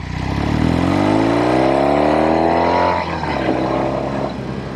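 A Norton Commando 850 motorcycle engine pulls hard while riding, its note rising steadily for about three seconds before easing off with a shift, then droning on at lower revs, loud and close.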